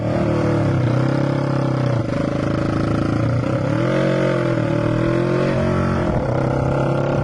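A café racer motorcycle rides past, its engine a loud, steady drone with a rising and falling pitch as it accelerates and eases off several times, carrying on without pause for about seven seconds with no voices.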